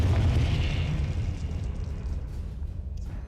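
A Confringo fire spell blasts in the Hogwarts Legacy video game, a deep booming explosion that rumbles loudly at first and then slowly dies away, with no voices over it.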